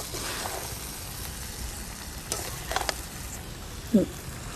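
Quiet scraping and stirring of chicken curry with homemade green masala in a pan, with a soft sizzle and a few louder clinks near the end.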